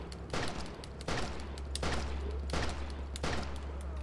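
DMR rifle shots fired at a hunter in the video game Outbreak: The New Nightmare, five heavy booming reports spaced about three-quarters of a second apart, each ringing out over a low rumbling background.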